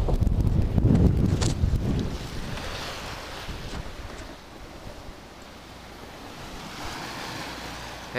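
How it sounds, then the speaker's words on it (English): Ocean waves surge and wash against a heeled sailboat on the Atlantic en route to Bermuda, a loud rushing burst at first that eases into a steady churning hiss of water and wind noise. "We're getting these waves is actually putting the tow rail right in the water."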